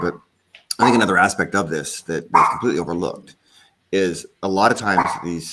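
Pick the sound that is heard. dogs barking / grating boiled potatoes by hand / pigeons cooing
dogs barking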